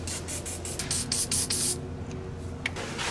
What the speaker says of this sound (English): spray in the bolts with a little penetrating oil and get things soaking